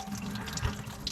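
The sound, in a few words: water draining out of a used excavator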